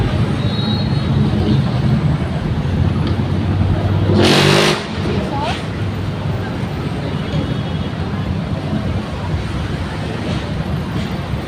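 Steady road traffic drones near a tricycle terminal at Masinag, with a louder vehicle passing close by at midpoint, continuous and fairly loud throughout.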